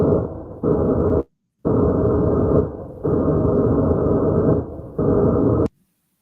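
Slowed SB7 Spirit Box sweeps at five percent speed form long droning, buzzing blocks of sound with brief silent gaps between them, loud and steady with no voices.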